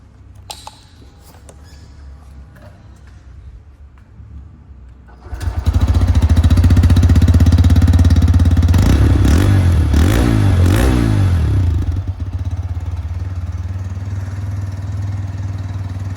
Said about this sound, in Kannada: ಐಡ್ಲಿಂಗಲ್ಲಿ ಈ ಥರ ಸೌಂಡ್ ಬರ್ತದೆ